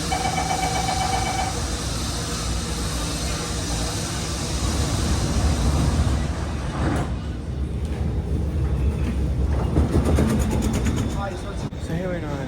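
A Singapore train heading to Changi Airport hums and rumbles steadily from inside the carriage, with a low drone and rising motor whine partway through, loud and continuous, with no voices.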